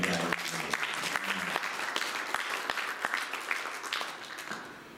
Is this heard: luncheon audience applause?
yes